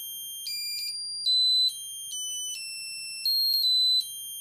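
An electronic sound chip in a three-person voter kit plays a simple song: a sequence of shrill, piercing electronic beep notes stepping up and down in pitch at a steady pace, with no voices.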